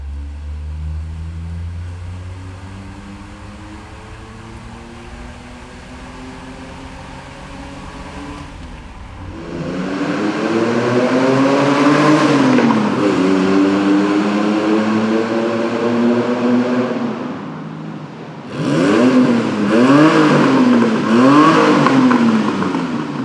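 A DeLorean's PRV engine revs hard on a late-night São Paulo road, rising and falling through two loud bursts of acceleration after a quieter idle-like stretch, with no talking.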